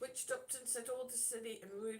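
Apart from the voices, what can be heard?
No everyday noise stands out behind the speech.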